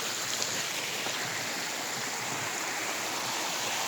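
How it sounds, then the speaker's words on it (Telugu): A small waterfall at TP Kotta in Andhra Pradesh gives a steady, even rush of falling water, close and constant, with no voices. "మినీ వాటర్ ఫాల్ ఇది"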